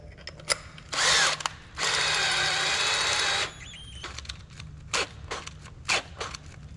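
Close power drill runs in two bursts, a short whir then a longer steady drilling, followed by scattered clicks and clunks of handling.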